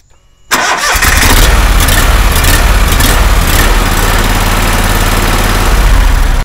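A Spartan stand-on mower engine starts abruptly after a moment of near silence, then runs steadily at a loud, close, even roar with no voices.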